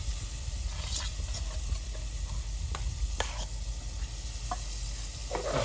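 A gram flour (besan) mixture is stirred in a cooking pan: a constant hissing sizzle with a few distinct scraping strokes of the spoon at irregular intervals.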